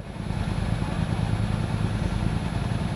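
A Ducati 1199 motorcycle engine idles close by with a steady, pulsing low rumble and slight mechanical clatter, holding an even level throughout.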